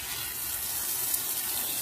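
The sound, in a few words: water running from tap to water plants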